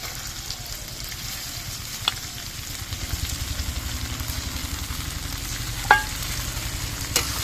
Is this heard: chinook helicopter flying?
no